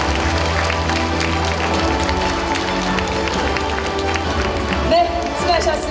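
Audience clapping at a community talk concert in Uljin, South Korea, a steady crowd applause with a few cheers, played under music and a speaking voice throughout.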